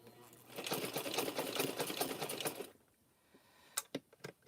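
A sewing machine back stitches through rope while a chain is made from it, a loud, fast, continuous whirring run of close needle strokes lasting about three seconds, followed by a few sharp handling clicks.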